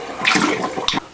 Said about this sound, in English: there will be that spit of air coming out after the water